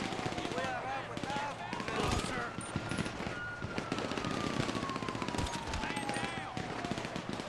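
Rapid automatic gunfire crackles almost without pause through a GTA Online firefight, dense overlapping bursts with a siren-like tone sweeping beneath, moderately distant and steady throughout.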